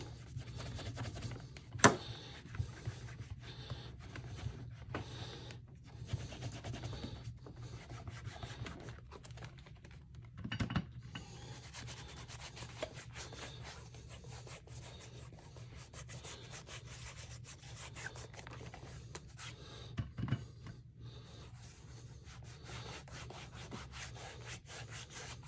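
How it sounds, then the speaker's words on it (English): Wax being buffed into grain leather by hand: close, steady rubbing strokes with a dry, scratchy texture and a few sharper scuffs, continuing without pause and with no voices. "that's really not a lot of wax, but you spend a little bit of time just buffing it out."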